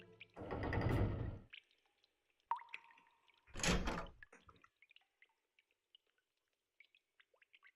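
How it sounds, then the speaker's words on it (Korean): Key turning and a locked door swinging open in a storytelling video game, heard as a quiet clack and rattle, a short metallic creak, then a second burst of latch and hinge noise, followed by faint scattered ticks. "박열쇠로 문을 열었다"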